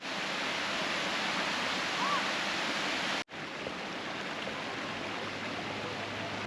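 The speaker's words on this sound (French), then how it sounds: "on est arrivé à la fameuse cascade qui se trouve juste là. Toute petite cascade." A small waterfall in Australia makes a steady, broad rushing roar of falling water that fills the whole stretch, briefly cutting out for an instant midway.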